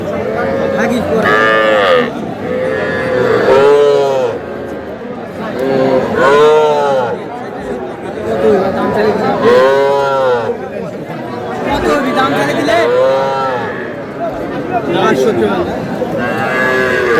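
Young bull calves, about four to four and a half months old, at a cattle market in Cumilla moo loudly again and again in a steady series of long calls, with people bargaining and chattering around them.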